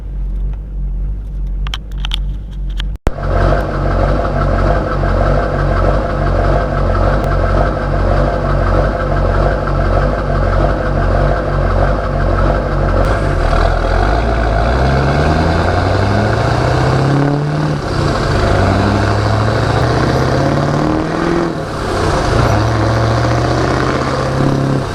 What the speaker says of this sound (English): you can get some good exhaust notes on the way